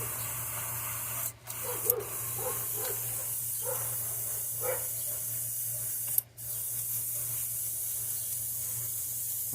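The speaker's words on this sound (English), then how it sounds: "I'm trying to spray it until I get that orange to come out pretty good." An airbrush sprays transparent orange paint, thinned, onto a crankbait fishing lure: a steady close hiss running throughout, with a few brief interruptions.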